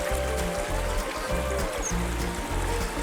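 River water streaming steadily over bedrock and gravel in Lead Hills, an old gold and lead mining area, a continuous close rushing flow with low churning pulses.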